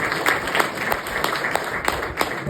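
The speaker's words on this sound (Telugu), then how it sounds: "సో నా కోసం ఒక 3 మెంబర్స్కి గట్టి క్లాప్స్ కొడదామండి" Audience at an office stage event clapping in loose, rhythmic bursts, sharp individual claps rising and falling across a few seconds, with no speech over it.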